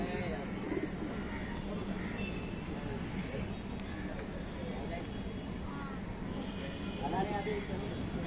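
Pigeons with stamped markings coo softly amid a busy outdoor background, low throaty calls recurring now and then while people talk nearby.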